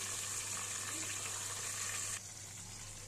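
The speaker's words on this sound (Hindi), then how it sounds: "कितनी अच्छी हमारी बैगन में तल रही है" Brinjal (eggplant) pieces fry in a pan over medium heat with a steady, close sizzling hiss throughout, which drops slightly in level near the end.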